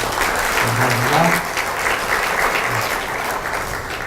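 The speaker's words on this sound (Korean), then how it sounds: "우리 뜨겁게 박수로" A church congregation gives warm applause to returning missionaries, a loud, full wash of clapping from many people that continues for several seconds, with someone briefly speaking over it.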